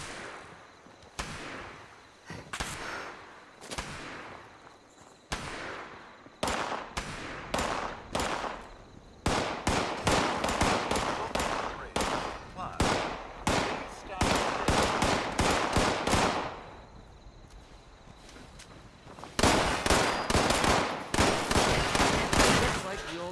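Bursts of gunfire from an enemy in the game Fallout 76, loud rapid volleys in repeated clusters with brief gaps between, growing denser and longer toward the end, with occasional voice under the shots.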